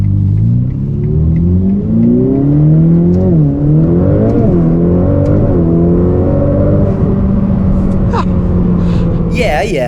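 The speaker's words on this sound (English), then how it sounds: "Well, then I finally had my first try at the twin-turbo V8 engine." A Ferrari twin-turbo V8 revs and accelerates, loud and close, its engine note climbing and falling through several rising sweeps before easing off.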